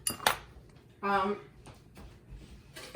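Kitchen utensils clatter as a small whisk is fetched, with sharp metallic clinks and a ringing knock at the start and near the end, spread across quiet gaps.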